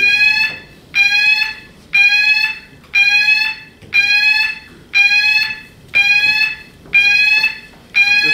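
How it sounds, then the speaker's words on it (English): A building fire alarm sounds during a test, blaring loud electronic tones in a regular pulse about once per second, each lasting most of a second, eight times in a row with no talking. "Fire alarm test."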